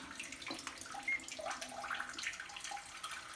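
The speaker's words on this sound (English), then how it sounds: "if I do it manually, I can always just say just posterior wash. It'll start it." Water spray from a UFFU C200 bidet's posterior wash, a steady, soft hissing splash with faint trickling and drips, continuous and fairly close.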